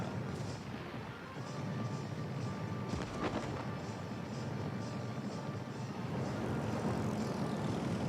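Aircraft engines droning in World of Warships: Legends, a steady propeller hum hovering over the naval battle with a sharp impact near the middle and faint background noise.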